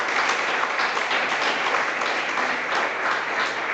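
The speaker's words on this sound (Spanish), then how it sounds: "Dele fuerte ese aplauso" A church congregation applauds steadily and loudly during a sermon, a dense continuous wash of many hands clapping with no pauses.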